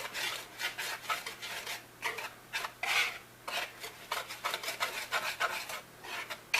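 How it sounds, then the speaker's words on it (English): A whisk scrapes and rubs against a bowl while dry cake ingredients like flour and salt are combined for a dark chocolate cake, in quick rhythmic bursts of rasping strokes, close and fairly clear with no talking. "Get it all nice and mixed, combined with a whisk."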